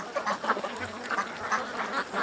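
Ducks quack repeatedly in quick, irregular bursts of nasal calls, fairly close and clear, with no talking.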